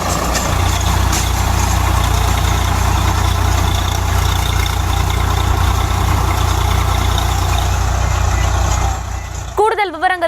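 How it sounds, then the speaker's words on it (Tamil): A heavy tractor engine rumbles loudly and steadily for several seconds in a cauliflower field, then cuts away as a voice starts speaking at the very end. "காலிஃபிளவர் செடிகளை டிராக்டர் கொண்டு அழிக்கும் அவல"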